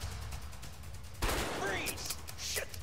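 In the video game A Way Out, a sudden burst of gunfire rings out in a rapid cluster during a police chase, loud against background game noise, with a voice briefly heard nearby.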